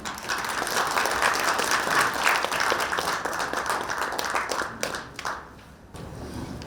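An audience at a school centennial commemorative event breaks into sustained applause, a dense wash of many hands clapping that fades toward the end.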